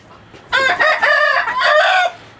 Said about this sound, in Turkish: Şurada beyaz bir tane horozumuz var yine